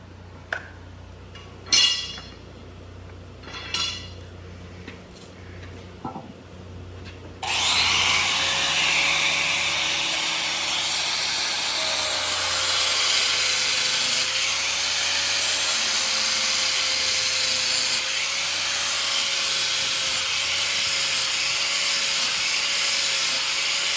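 After a few light clinks and knocks, a power tool starts up and grinds along a nicked lawn mower blade, producing a loud, continuous close whir with a sustained high whine.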